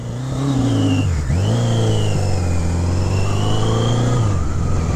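A 1980 Kawasaki KZ1000G motorcycle engine idles high and revs in smooth sweeps above 3,000 RPM, dipping briefly and climbing again, close and steady with no voices.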